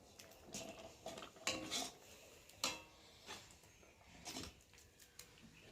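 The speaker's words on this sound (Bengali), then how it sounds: "দিয়ে ডালটাকে ভালো করে একটু নেড়ে দেবো" Lentil dal in a pot is stirred with a metal spoon, producing soft, irregular clinks and scrapes against the pot at a low level, with no one speaking.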